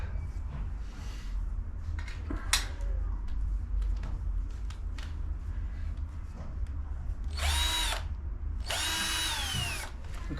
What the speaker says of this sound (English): I've got my drill on low speed